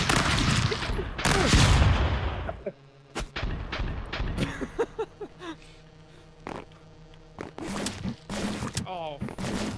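Grenades and gunfire burst in the Stick Fight video game, a rapid chaotic series of loud cracking blasts and booms mixed with excited player voices talking and shouting throughout.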